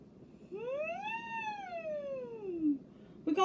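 A singer imitates a siren in head voice, gliding up in pitch and then slowly sliding back down in one long wail, close and clear.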